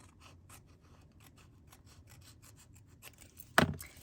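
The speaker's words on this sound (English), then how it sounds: "So now I can trim off this excess." Excess craft material, taped down on a woven-framed white scrap piece, is trimmed away with soft, close rubbing and scraping strokes, ending in one sharper, louder cut near the end.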